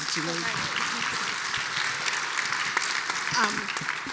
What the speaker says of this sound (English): A big round of applause for my panel here.